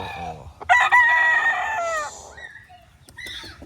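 A rooster lets out one loud, close crow that rises and trails off, followed by faint clucks outdoors.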